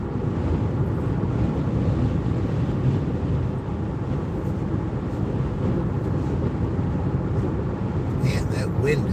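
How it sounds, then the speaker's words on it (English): Strong wind from a wind advisory day in Indiana roars steadily and loudly across the whole stretch, a dense low rumble of gusts buffeting the microphone without a break. "that wind is something else"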